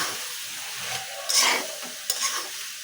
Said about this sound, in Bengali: এখন আমি দিয়ে দিচ্ছি ঝোল